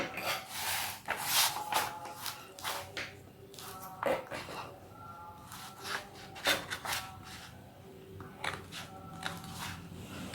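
Scissors cut blouse fabric along a marked line, with repeated close snipping and rasping strokes in an uneven rhythm, a few quiet bumps between cuts.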